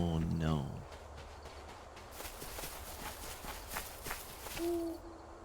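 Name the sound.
owl hooting in video game Death's Door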